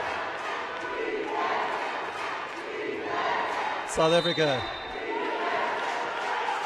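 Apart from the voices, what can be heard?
home crowd cheering at a wheelchair basketball game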